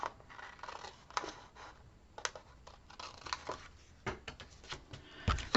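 Scissors snip through a row of paper for a heart-themed album, making quiet, close, irregular crisp cuts and rustles, with no talking.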